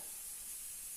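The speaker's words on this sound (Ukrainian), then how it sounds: "Цибуля смажиться" Onion sizzles and crackles steadily in a hot pan, a soft, constant frying hiss with no voices.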